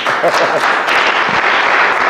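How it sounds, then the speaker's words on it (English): A congregation claps for a woman at a church gathering, dense, loud applause filling the moment, with a few voices rising faintly underneath. "Clap for her, please."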